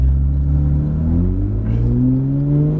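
A Porsche 911 GT3 RS (991) accelerates on a racetrack. The engine drone rises smoothly and loudly in pitch throughout, with a deep rumbling undertone.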